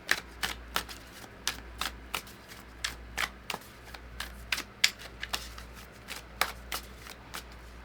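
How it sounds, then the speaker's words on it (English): Oracle cards being shuffled by hand, a quiet, rapid series of crisp papery riffles and taps repeating at an irregular rhythm, close up with no talking. "Let's pull some oracle cards."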